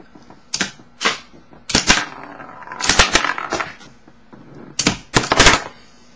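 Toy missiles fired one after another from a Megabot toy launcher at a Cybertron Downshift figure, a series of sharp close plastic snaps and thwacks in irregular bursts with brief clatters between, no voices.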